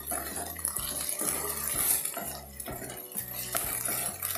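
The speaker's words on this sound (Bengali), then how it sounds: "আদা বাটা রসুন বাটা ভালো করে পেঁয়াজের সাথে মিশিয়ে দেব" Ginger and garlic paste being stirred with onions in a pan gives close, repeated scraping and clinking of a utensil against metal in an uneven rhythm, with a faint watery sizzle and no talk.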